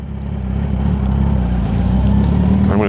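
A 2019 Kawasaki Ninja 1000 motorcycle engine hums loud and close while riding, a steady low drone that builds gradually, with a brief rising whine near the end and no talk.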